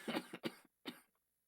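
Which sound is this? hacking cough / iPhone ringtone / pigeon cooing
hacking cough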